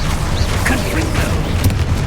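A Confringo spell blast in Hogwarts Legacy, a steady roaring, booming burst with a voice heard over it.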